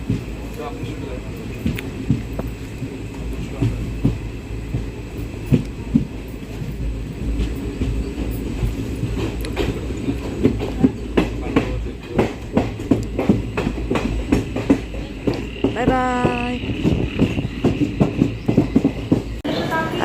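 A passenger train runs toward Mumbai with a steady, rumbling rhythm of wheel clacks, heard from on board. Voices murmur faintly underneath, and a brief tonal sound rises near the end.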